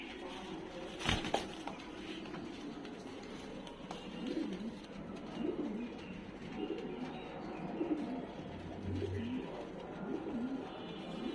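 Pigeons coo repeatedly in soft, rolling bursts at a pigeon market stall, steady throughout with a sharp knock early on and light background clatter.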